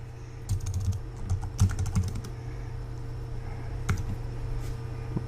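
Steady clicking of keys on a computer keyboard, with quick bursts of keystrokes and short pauses over a constant electrical hum, close and moderately loud, no voices.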